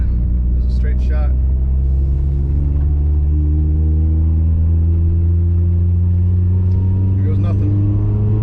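A stock-block Mitsubishi Evo engine pulls hard on a tuning log run down a back road, a loud, steady drone that climbs slowly in pitch. Someone speaks briefly near the start.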